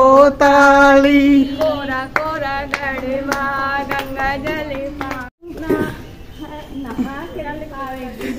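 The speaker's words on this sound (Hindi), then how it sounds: "दोनों हाथ बजाओ ताली, दोनों हाथ बजाओ ताली।" Steady two-handed clapping keeps time with singing in a Hindi Mata bhajan, with crisp claps under the vocals, a brief pause, then clapping and singing again.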